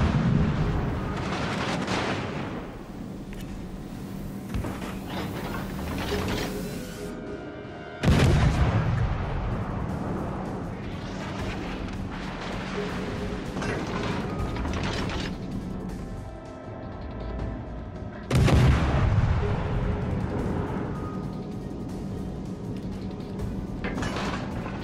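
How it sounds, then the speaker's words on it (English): Naval gunfire in World of Warships: Legends, with heavy booming salvos over a dense, continuous rumble of battle, and a loud blast at the start and two more midway and late. "Concentrate fire on the enemy warship."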